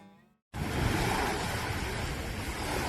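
Waves wash steadily onto a Persian Gulf beach, a loud continuous surf roar that cuts in abruptly after a brief quiet moment, with some wind on the microphone.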